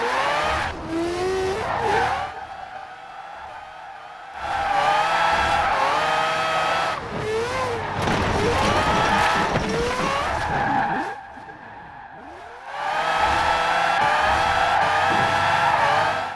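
A 2002 Mazda RX7 Spirit R drifts in Forza Horizon 4, its tires squealing loudly and continuously while the rotary engine revs hard. The engine drops briefly between long slides.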